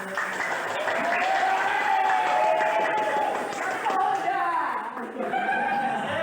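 Classroom applause for student groups presenting arts work, a steady clatter of clapping lasting several seconds with voices and chatter mixed in.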